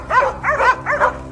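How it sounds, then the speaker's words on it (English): Hunting dogs barking on a mountainside during a wild boar hunt, three distinct bark bursts in steady succession, fairly close and loud. "But suddenly, the barking of dogs rang out again"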